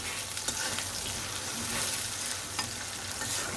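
Ginger garlic paste sizzles steadily in a pan of fried, browned onions, with a continuous close frying hiss and occasional stirring scrapes and no voices.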